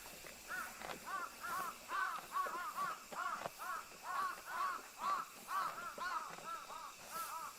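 Crows cawing in a rapid run of harsh repeated calls, roughly a dozen in quick rhythm, fairly faint and distant-sounding, with no talk over them.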